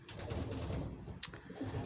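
Low, soft pigeon cooing repeats steadily at close range, with a brief sharp click partway through.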